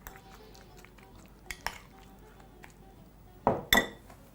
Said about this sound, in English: I'm going to grab this nice beautiful plate which we're going to be serving our dish on